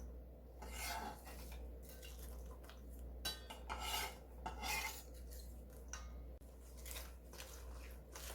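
Quiet wet squishing and rubbing as sliced onion is tossed by hand with seasoning paste for cucumber kimchi, a steady soft mixing over low background hum.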